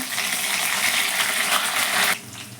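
Crushed garlic, green chili and curry leaves frying in hot oil give off a loud, dense sizzle that crackles steadily up close, then drops suddenly to a softer hiss near the end.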